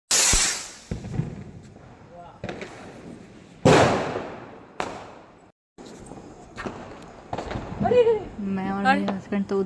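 Diwali firecrackers and a rocket set off at home: several sharp, loud bangs and crackling bursts in irregular succession, with a rising whistle-like tone near the end and people talking between the blasts.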